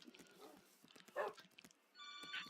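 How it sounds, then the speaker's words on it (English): A telephone rings briefly near the end, a bright electronic tone that cuts in after scattered soft clicks and faint dog-like game sounds. "Sorry about the phone, guys."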